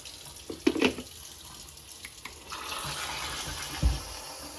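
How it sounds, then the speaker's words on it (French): Water runs from a kitchen tap in a short, quiet stretch, with a few small clinks of handling before the steady flow starts and a soft thump near the end. "Un peu d'eau."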